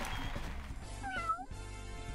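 In the Pangya golf video game, a cat gives a single drawn-out, complaining meow, moderately close over a soft background of game ambience.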